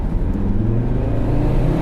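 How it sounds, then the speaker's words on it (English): A car engine in standard drive mode revs and holds a steady, loud drone as the throttle is opened while the car ahead pulls away. "let's hear the throttle"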